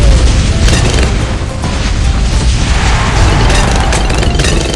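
Fire bomb explosions in the video game Bloons TD 6 make a dense, continuous barrage of loud booms and crackling bursts that overlap without pause, with no speech.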